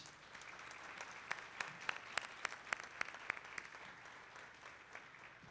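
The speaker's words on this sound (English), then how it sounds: "Please join me in a round of applause to thank them for their contributions to Jefferson College." At the 2021 Jefferson College commencement, the crowd applauds to thank former employees. The steady, soft clapping is distant, and a run of sharper rhythmic claps stands out in the middle before it tapers off.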